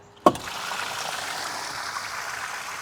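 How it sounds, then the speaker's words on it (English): Water runs out of a buffer tank being drained for pressure washer plumbing, a steady close hissing trickle that starts after a sharp click and continues evenly. "So I need to drain the water"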